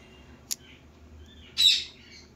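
A pet bird named Piku gives a brief sharp chirp, then a louder squawking call about a second later, both close by against a quiet room.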